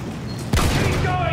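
Battlefield 1 machine gun fire, a sudden loud burst of rapid shots breaking in halfway through over the rumble of a wartime battle.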